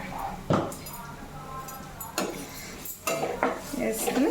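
Spoon scraping and clinking in a pan while chili powder is stirred into fried onions for a Telugu-style fish fry, with a few sharp metallic knocks over a soft background sizzle and no speech.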